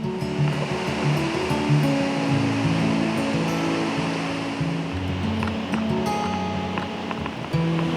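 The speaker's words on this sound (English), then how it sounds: "These are some powerful waterfalls." A powerful Yellowstone waterfall roars at the brink of the falls, a loud, continuous broadband rush heard up close with no letup.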